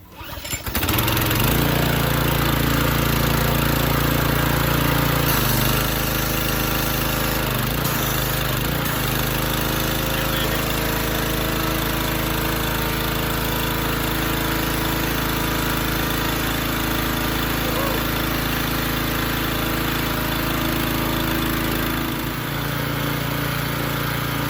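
A gas pressure washer engine catches after a brief start and settles into a loud, steady running drone that continues close and unbroken throughout, with a slight shift in pitch partway and no voices.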